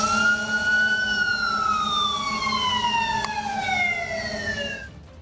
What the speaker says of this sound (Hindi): इस बीच एक ड्रोन तो सायरन बजाकर लोगों को सावधान भी करता नजर आया